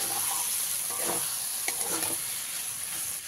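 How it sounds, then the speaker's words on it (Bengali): Fried potatoes and pointed gourd are stirred into a sizzling spice paste in a kadai, making a continuous soft sizzle with scraping, clattering stir strokes throughout. "এবারে এখানে দিয়ে দিচ্ছি ভেজে রাখা আলু আর পটলগুলো, দিয়ে খুব ভালো করে মিশিয়ে দিতে হবে।"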